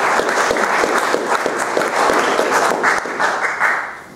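An audience applauds with dense, sustained clapping that fills the space from start to finish.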